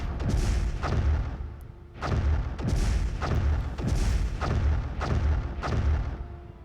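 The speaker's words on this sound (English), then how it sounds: "let's drop the bombs" Bombs fall on a colony during a Master of Orion space strategy battle, a series of loud, deep booming blasts repeating roughly every second, each with a sharp crack and rumbling tail.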